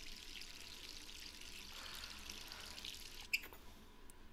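Tap water runs steadily in Resident Evil 3, a soft hissing stream at moderate distance, then a brief clunk near the end as the flow cuts off, leaving quiet room tone.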